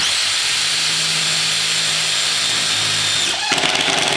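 A Festool TID 18 cordless impact drill drives a fastener into sheet metal, a steady loud whirring drone that shifts near the end into a rougher, rattling hammering as the speed drops.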